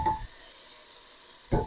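Chopped tomatoes, white vinegar, honey and chutney hit a hot pan for a mango chicken curry, giving a brief loud sizzle, a quiet pause, then another burst of close hissing.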